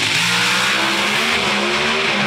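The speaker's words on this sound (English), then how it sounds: "Final 2 Pro Stock cars in qualifying session #1." Pro Stock drag racing cars roar continuously at full throttle during a qualifying session, loud, dense engine noise holding steady with a slowly rising pitch.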